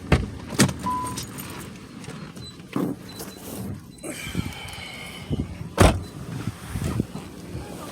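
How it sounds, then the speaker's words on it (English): A car is switched off during a police traffic stop and the ignition key pulled out, giving mechanical clicks, a brief whir and jangling keys, with scattered rustles and knocks nearby inside the vehicle. "You can turn it off. Take the key."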